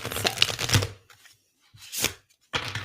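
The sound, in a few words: shuffling tarot cards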